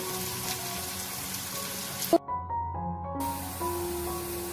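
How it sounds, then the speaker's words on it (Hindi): Onions frying in hot oil in a pan, cooking until light brown for an achari mash daal, a steady close sizzle with a sudden sharp burst and a brief drop before the hiss resumes. "प्याज जो है वो हम तब तक फ्राई करेंगे जब तक ये लाइट ब्राउन नहीं हो जाते हैं।"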